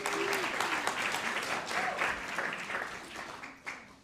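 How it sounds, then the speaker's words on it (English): Audience applause at a guide dog graduation ceremony, a sustained round of clapping from a gathered crowd at moderate distance that tapers off toward the end. "round of applause."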